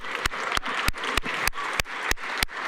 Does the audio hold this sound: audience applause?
yes